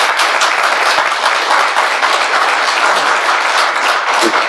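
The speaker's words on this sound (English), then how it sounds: "if everybody would please help me with a round of applause for Max" Roomful of attendees at a tech meetup clapping for Max, a loud, close, uniform burst of applause lasting several seconds without speech.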